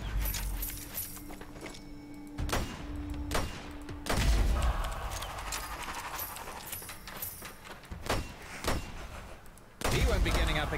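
Gunfire in the video game Strange Brigade: sharp, loud shots land in a scattered run of single bursts and short clusters over a steady bed of background game noise.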